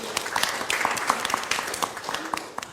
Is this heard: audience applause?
yes